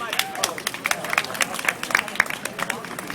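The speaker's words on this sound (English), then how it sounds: "Give a round of applause." An audience at a local election hustings claps with a dense patter of hands, moderately loud and continuous for a few seconds, with voices talking underneath.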